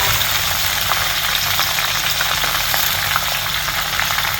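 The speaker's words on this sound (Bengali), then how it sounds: "পেঁয়াজটা আমি একটু লাল করব, একটু বেরেস্তা করে নেব পেঁয়াজটা" Onions sizzling in hot oil in a pan for an okra stir fry, a dense, steady, loud frying crackle heard close up with no talking.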